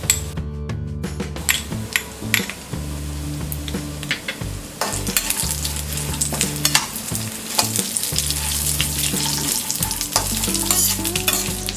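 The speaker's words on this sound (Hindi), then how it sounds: "इसे 2 मिनट तक फ्राई करेंगे। इसमें डालेंगे ये रेजिन्स या किशमिश," Makhana (fox nuts) and raisins frying in a pan, a steady close sizzle broken by repeated stirring scrapes and light clinks of the utensil against the pan.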